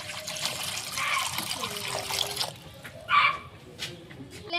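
Water from a small copper vessel is poured into a pot for boiling eggs, a close splashing gush for a couple of seconds, then quieter trickles and a brief louder splash.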